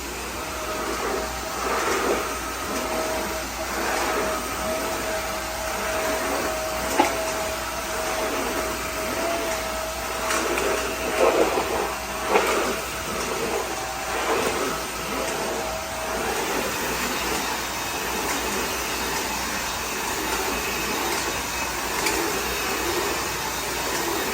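A eufy Mach V1 Ultra cordless steam mop vacuum runs across a floor with floor quick drying active, giving a steady, loud whirring drone that holds level for the whole stretch, with small bumps as it moves.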